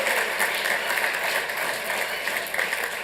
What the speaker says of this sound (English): Man, that deserves a round of applause.